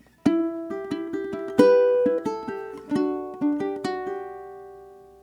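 Solo ukulele picks out a three-bar phrase of Scarborough Fair, a flowing run of plucked notes that ring into each other and let the last one fade. It is close and clear, with no voices.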